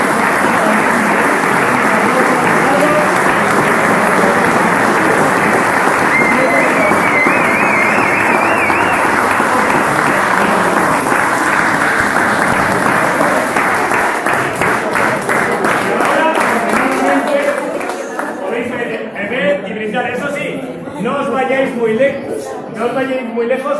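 A crowd at a homebrewing competition awards ceremony bursts into loud, sustained applause that rolls on for about eighteen seconds before thinning into scattered claps and murmuring voices.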